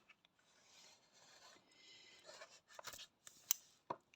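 Small scissors snip and rasp through the packaging of a bead cross-stitch kit, close and quiet, with several short crisp cuts and rustling toward the end.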